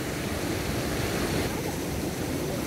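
Steady, loud rush of water from strong stream rapids in the countryside, a constant broadband roar with no breaks.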